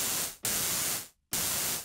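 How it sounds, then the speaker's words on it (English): Noise oscillator on a Vengeance Avenger synth plays raw hissing static in two sustained bursts, each cutting off abruptly, separated by a short silence. "This noise can be shaped with the inner ring."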